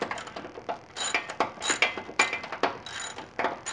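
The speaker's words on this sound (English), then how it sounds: "Got my 15 millimeter wrench." Rapid bursts of ratcheting clicks from a 15 mm wrench tightening a bolt on the front suspension upper control arm of an Aston Martin DB9, close and crisp, in quick repeated strokes with short pauses between.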